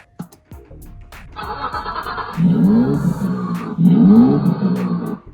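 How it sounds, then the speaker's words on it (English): A two-seater ride-on toy Audi Q5 powers up, giving a brief click followed by a loud, rising electronic start-up tone that swells in two surges, close by with no talking. "And we just turn on the car like so."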